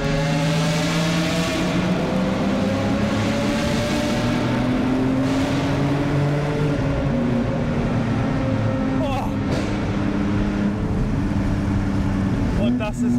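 A Lamborghini Aventador SVJ engine roars loudly and continuously inside a tunnel, its deep tone rising and falling with throttle changes and reverberating off the walls throughout, with a sharp burst near the end.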